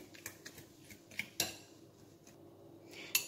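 A fork whisking egg, sugar and starch for a pie filling in a bowl, quiet irregular metal clicks and taps against the dish with a few sharper knocks, no talking.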